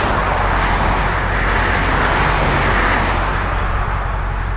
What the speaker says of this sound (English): the cars are flying by so fast on the highway